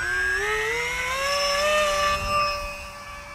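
Electric motor spinning a Dal F7 folding prop at three-quarter throttle on a 4S setup, a steady high whine whose pitch climbs slightly then holds, close and continuous with no talking.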